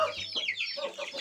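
Roosters and hens shut under boxes cluck in quick, overlapping bursts, close and fairly loud, with no talking heard.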